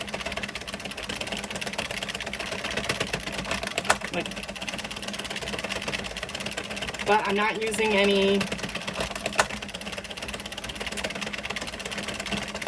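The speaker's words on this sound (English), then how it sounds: "but occasionally I'll get that knocking" Addi Express Kingsize knitting machine running with a steady mechanical clatter, an intermittent knocking rising briefly partway through, while a person talks over it.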